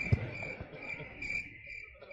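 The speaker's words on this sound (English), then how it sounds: "Can we get that cricket sound," Crickets chirp in a steady, continuous trill, played as a sound effect during a church evening class. The sound is quiet and unbroken, with no one talking over it.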